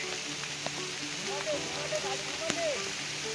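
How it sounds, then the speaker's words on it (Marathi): Steady rain patters on surfaces beside a creek, a constant wash of drops with faint, scattered knocks. "इकडं परत पावसाला सुरुवात झाली जोरात"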